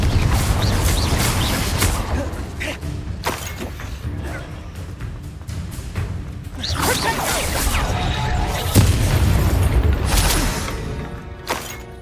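Spell blasts and fiery explosions cast in the video game Hogwarts Legacy, a dense run of crashing, shattering bursts and whooshes layered over game effects, with a voice shouting incantations between them.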